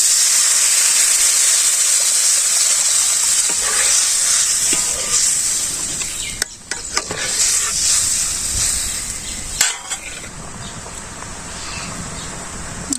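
A curry is sautéed and stirred in a pan while cooking in a Bangladeshi village, producing a loud, steady sizzling hiss with a few scraping stir noises and brief pauses.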